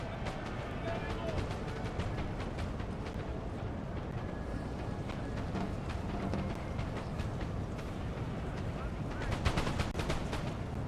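Musket volleys crackle from massed infantry units in a Napoleon Total War online battle, a dense continuous rattle of distant and near shots over a rumbling battlefield din, with someone commentating throughout.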